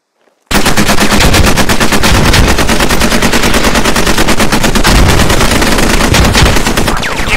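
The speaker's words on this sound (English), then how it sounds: "This next evolution will get you used to what it's like to be under fire." Loud, sustained automatic machine gun fire during a live fire infantry training exercise in the Squad video game, bursting in abruptly after a short silence and hammering on continuously without pause.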